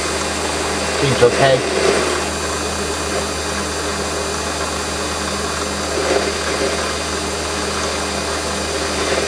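A Warco WM180 lathe running at 1100 RPM, a steady loud mechanical drone with a constant whine throughout, and someone speaking briefly over it.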